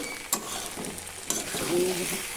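Mutton frying in a pan while being stirred, a steady sizzle broken by sharp scraping clicks of a spatula against the pan, close and fairly quiet, no talking.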